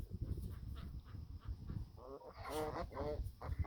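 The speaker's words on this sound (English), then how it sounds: "Geese and the ducks are back from their pond." Geese honk in a short burst of nasal calls, somewhat distant, over a low rumbling background with scattered noises before them.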